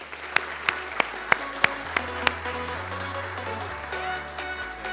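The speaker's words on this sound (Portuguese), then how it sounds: "Uma salva de palmas para esse caríssimo, uma fera, Adélio Pereira de Souza Júnior" A handful of separate, sharp hand claps ring out at a CEO panel session of a business conference, spaced about every third of a second and then stopping, over a steady tonal hum.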